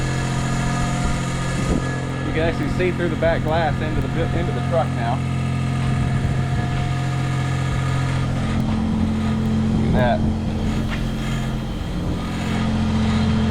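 A 1979 Jeep Cherokee Chief S Wide Track engine idles with a steady, close, rumbling drone under someone talking throughout.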